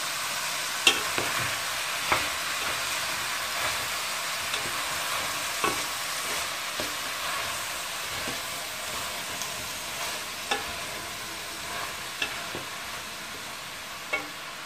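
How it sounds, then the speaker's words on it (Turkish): Leeks sizzle steadily in a hot pan while a utensil stirs, scraping and clicking against it at regular intervals, close and fairly quiet. "Karıştırayım bakalım."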